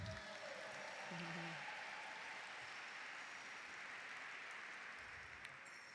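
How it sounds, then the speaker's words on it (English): A crowd at an American Indian Heritage Month celebration applauds for Tom Phillips, a distant and faint hiss of many hands clapping in a big space, with a voice briefly heard at the start. "if you guys could all just a round of applause for Tom Phillips"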